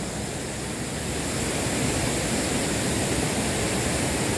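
Water pours over a dam and flows into a canal at a drinking water project, its high flow clear and clean. A dense, steady roar of rushing water stays close and constant with no other sounds.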